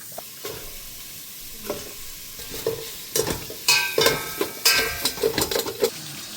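Herb-seasoned sausages fry in a pan without oil in a Tuscan farmhouse kitchen, sizzling steadily under repeated stirring scrapes and clinks of utensil against pan that grow busier toward the end, with no talk.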